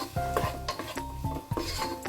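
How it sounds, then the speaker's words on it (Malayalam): Ingredients for pineapple payasam sautéed and stirred in a pan, with a spoon scraping and knocking against the metal in a steady rhythm over a soft sizzle, close and fairly loud. "ഇതിന് നല്ലതുപോലെ വഴറ്റിയെടുക്കണം."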